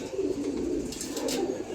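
Silver-blood Giribaz pigeons cooing, soft rolling coos close by with a steady low murmur and no voices.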